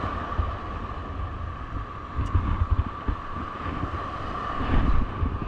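Strong typhoon wind and heavy waves at sea around a small fishing boat in thick seaweed: a steady, loud roar of wind buffeting with deep surging rumbles of water, swelling near the end, and no voices.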